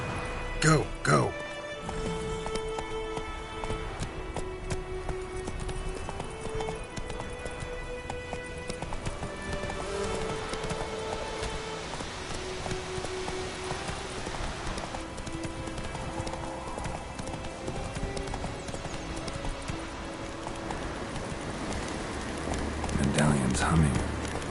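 Horses gallop with a continuous clip-clop of hooves in The Witcher 3, rhythmic and steady across the whole stretch, layered under game music with an occasional whinny and a few spoken lines.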